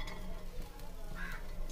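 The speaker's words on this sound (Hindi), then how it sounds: "अच्छे से मिक्स कर लूंगा।" Chopped onions, one cup, being stirred in a pan with a tablespoon of oil, a steady soft scraping and sizzle running through the whole stretch at moderate level, with no talk.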